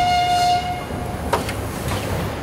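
A Lebedyanka steam locomotive's whistle gives a short steady tone that fades after about a second. Railway rumble and a brief knock follow at moderate loudness, with no talking.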